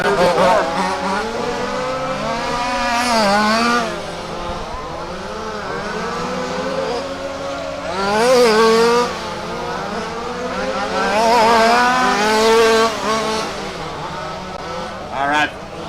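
Race cars lap the Warm Springs track in a RAMS WCC event, engines swelling and fading as they pass, with near-constant commentary over the top.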